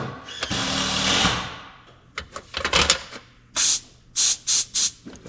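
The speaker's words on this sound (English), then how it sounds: "Put a little brake parts cleaner in here." Brake parts cleaner sprayed from an aerosol can while working on a Lull Highlander 844 telehandler: one long hiss, then a string of short sharp bursts alongside some clanks and taps, close by.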